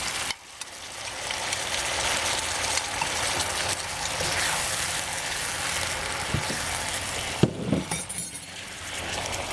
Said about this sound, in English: And I put all the sauce in it now.